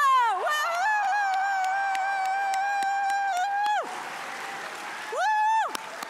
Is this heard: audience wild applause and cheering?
yes